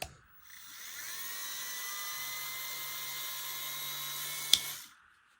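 A tungsten grinder with a diamond wheel whirs up to a steady high-pitched whine, runs evenly for about four seconds with one brief click, then spins down.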